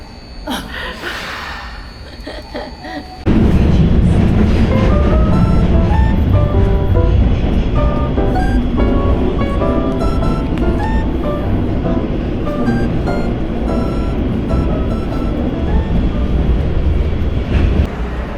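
A train in Tokyo rushes past close by, a sudden loud steady roar with squealing tonal whines that cuts in after a quieter opening of street ambience with voices, then holds for the rest of the clip.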